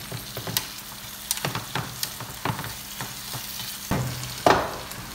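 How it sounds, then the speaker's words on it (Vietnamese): Tofu and fish cake fry in a hot pan with a steady sizzle. Sharp clatters and scrapes of stirring rise above it, with a louder burst near the end and no talk. "Bây giờ mình chỉ việc chiên lại một lần nữa cho nó chín thêm một lần nữa và nó nóng lên."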